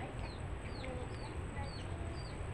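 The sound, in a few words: chicken clucking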